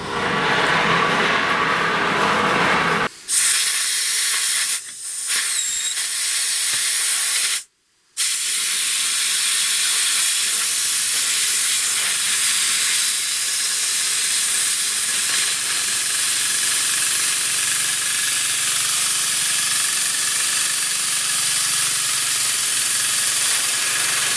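A simple homemade steam engine runs with a loud, continuous hiss of escaping steam, steady for the whole stretch apart from a few brief sharp dropouts near the start.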